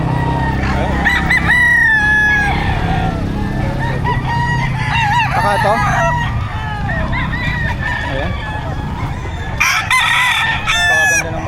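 Roosters crow repeatedly at the Bocaue pet market, loud and close, amid clucking fowl, crowd murmur and brief speech.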